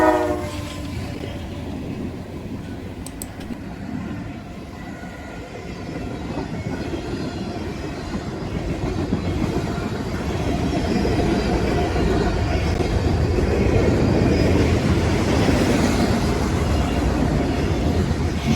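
CSX freight train M560 led by CSX 7001 with two SD40s and three Norfolk Southern SD70Ms rumbles past, a steady heavy roar of engines and rolling cars that builds louder through the pass, with a brief horn note early on.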